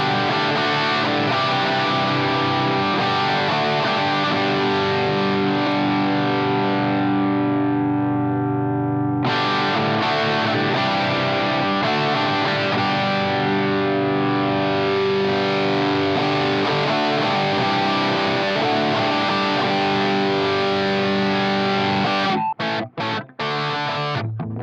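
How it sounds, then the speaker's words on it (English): Electric guitar played through an overdrive pedal on a Blackstar JJN 50 amp sim: sustained driven chords and notes ring out with a thick, saturated tone, a brief pause midway, then choppy muted stabs at the end. "Let's kick on the overdrive."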